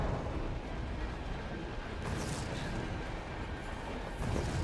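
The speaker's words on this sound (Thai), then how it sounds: "แผ่นดินไหวเนี่ยอย่างกับแผ่นดินไหวเลย เริ่มถล่มแล้ว" An earthquake-like collapse in Resident Evil 2 Remake: a dense, continuous low rumbling roar with crumbling debris, loud and unbroken, with no voices.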